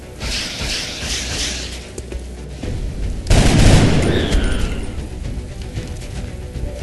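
Gunfire in the video game XCOM: Enemy Unknown, a loud blast and rumbling boom in the middle of dense continuous battle noise and mechanical effects.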